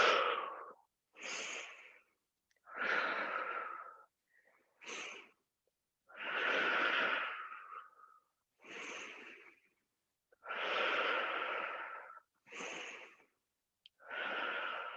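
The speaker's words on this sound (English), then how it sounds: "Deep full breathing." Deep, full breaths during a vinyasa yoga flow come as a series of slow, close, audible inhales and exhales, each lasting one to two seconds and separated by short silences.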